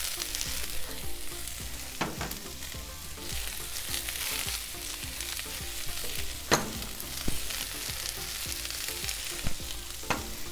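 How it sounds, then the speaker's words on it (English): Snow peas, carrots and zucchini frying on a hot griddle, a steady loud sizzle with scattered crackles and a few sharp scraping clicks of a spatula, no talking. "I'm going to toss in the snow peas, the carrots, and the zucchini."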